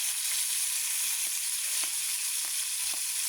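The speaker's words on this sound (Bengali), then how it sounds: "এখান থেকে 4 পিস মাছ নিয়ে ভাজবো" Four pieces of fish fry in oil with a steady, even hiss and a few soft pops or spatters, close by and without talk.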